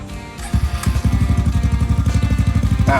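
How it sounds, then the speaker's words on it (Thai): A Kawasaki KLX150BF motorcycle with its stock starter fires up after a short crank and settles into a steady, close, thumping idle with an even pulsing beat. "ติดเครื่องง่ายๆเบาๆแบบนี้ครับใช้สตาร์ทเดิมๆครับ"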